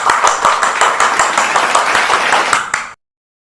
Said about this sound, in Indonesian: Kita kasih tepuk tangan untuk kelompok 2 ya.